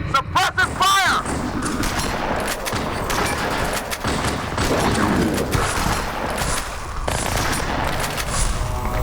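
Heavy gunfire rattles through a Halo video game battle, dense bursts of automatic weapons and shots mixed with loud impacts, while soldiers shout over the din.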